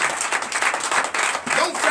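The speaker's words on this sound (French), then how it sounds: "Donnez l'acclamation" A church congregation at a Sunday service claps together in a brisk, continuous burst of applause from many hands, close and fairly loud throughout the short moment.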